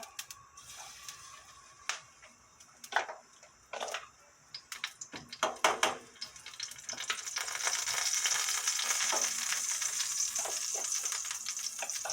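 Oyster pancake (gul-jeon) frying in oil over medium heat, shifted with a spoon: intermittent scrapes and clicks early, then a steady sizzle building and holding loud through the second half, with no talk.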